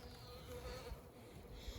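Dense, steady buzzing of many honeybees at an open hive, close by, a continuous droning hum with no voices.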